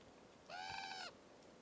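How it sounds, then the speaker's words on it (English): A pet crow lets out a single drawn-out, nasal call lasting about half a second, clear and fairly close, heard alone over a steady low background hiss. "a crow who is super annoying"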